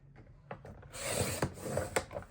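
Paper trimmer cutting scrapbooking paper: a near, quiet rasping slide of the blade along the sheet, set off by a few sharp clicks and taps from the cutter, with no voices.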